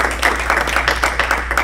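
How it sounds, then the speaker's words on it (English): Applause from a Rotary Club meeting audience in North Carolina, a steady patter of clapping at moderate distance over a low hum, with faint voices mixed in. "Let's give a big round of applause for Larry"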